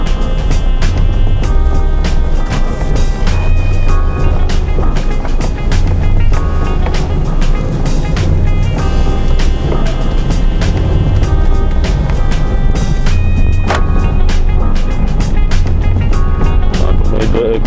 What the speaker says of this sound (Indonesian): Eco sendiri ini sudah saya agak dalam di gasnya, tapi untuk tarikannya juga masih lambat ya